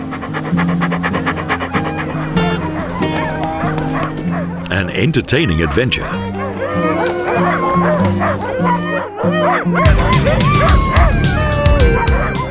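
A team of sled dogs in Alaska in summer barks, yips and pants excitedly, a dense chorus close by, while a narrator speaks over music.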